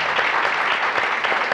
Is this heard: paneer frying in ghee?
no